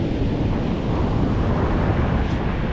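Beach surf washes steadily close by, a broad continuous rush of water mixed with wind buffeting the microphone, with no voices.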